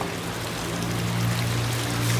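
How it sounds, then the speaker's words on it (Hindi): Water pours openly and constantly at a mosque ablution area in Pakistan, a steady gushing stream with a low droning hum beneath it, continuous and fairly loud without talk. "ये यहाँ पर पानी ऐसे ही खुला आता रहता है, लाइक नल नहीं होती"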